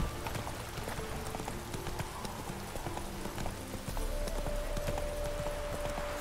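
Horse hooves clip-clop in a steady gallop in The Witcher 3, a continuous rhythmic pounding beneath game ambience and wind, with no talking.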